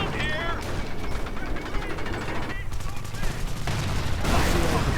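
Flak gun firing in a World War II strategy game, turned against a Panzer IV, with a dense fusillade of rapid gunshots and machine-gun bursts alongside battle noise, loud and continuous, under a speaking voice.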